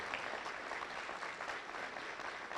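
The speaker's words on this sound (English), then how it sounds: "Let's give them a round of applause and root them on through the rest of their training." An audience claps for firefighter academy Class 26, a dense, steady burst of applause from a standing crowd in a hall, continuous and moderately loud with no speech.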